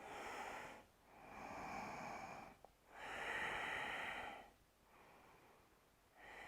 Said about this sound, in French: respirer profondément